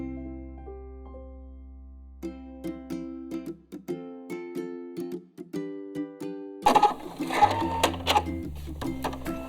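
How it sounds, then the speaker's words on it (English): A sewing machine stitches folded bias tape into fabric ties in short, rapid bursts with brief pauses between them, loud and close, and a low hum runs underneath at the start. "you're just gonna fold it and sew it together"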